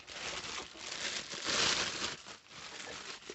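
A plastic bag crinkles up close as a Tydeux 4x16x52 rifle scope is unpacked, a continuous rustle that swells in the middle and then eases off.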